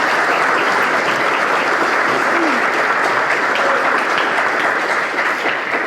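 Audience applauding at a girls' school football league launch event, loud continuous clapping close by, with faint voices murmuring underneath.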